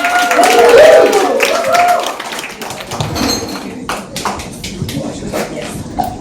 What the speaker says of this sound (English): Big round of applause, no, come on, more.